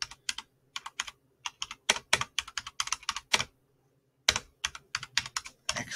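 Two-finger typing on a computer keyboard, close and crisp key clicks in uneven clusters separated by short pauses, with one longer silent gap midway.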